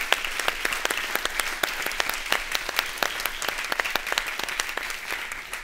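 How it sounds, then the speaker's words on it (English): Audience applause at the New Frontier Awards ceremony, steady dense clapping from a large crowd, close and sustained throughout with no talking. "So I'd like us to applaud him for standing up."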